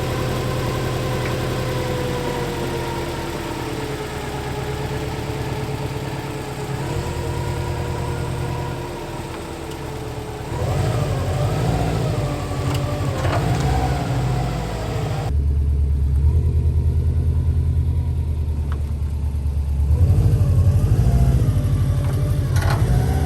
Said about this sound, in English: We're gonna go for our first test drive just to see what revs.